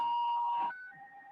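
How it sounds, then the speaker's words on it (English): Rocket reverse warning from a video game: a steady electronic beep tone that drops to a lower pitch partway through, clear and fairly loud with no talking. "Has he got beep, beep, beep, beep, little reverse indicators coming in?"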